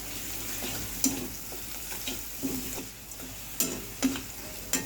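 Turmeric, cumin, chilli powder and salt frying with peas in a pan, a soft steady sizzle broken by several sharp spoon-scraping clicks and stirs.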